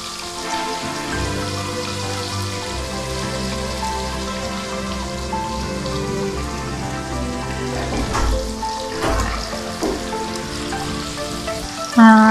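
Pieces of rohu fish fry in a pan over a medium flame, giving a steady crackling sizzle like light rain, with a low hum underneath and a few louder spatters near the end.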